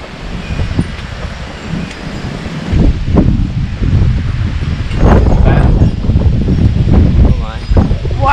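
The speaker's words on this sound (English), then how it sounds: "Wow, it's getting windy." Gusty wind buffets the microphone with low rumbling, rising in strength, while people talk nearby.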